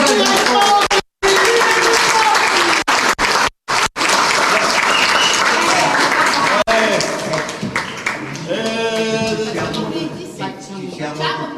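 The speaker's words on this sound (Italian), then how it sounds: "Un applauso." Guests at a festive Italian party burst into loud, sustained applause, broken by a few sudden gaps, as voices and chatter grow over the clapping toward the end.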